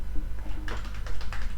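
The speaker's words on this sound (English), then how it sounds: "I can just type something" Keys on a computer keyboard being typed in a quick, irregular burst of light clicks, close and clear over a steady low hum, with no talking.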